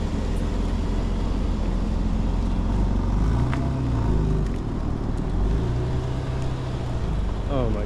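A car being traded in toward a 2025 BMW M4 Competition xDrive delivery drives off, its low engine rumble steady and fairly close, with faint background noise and no clear talk.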